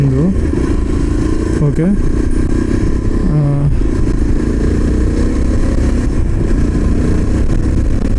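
A Yezdi Adventure motorcycle engine idles with a loud, steady rumble up close, blipping upward in a few short revs, while someone talks over it.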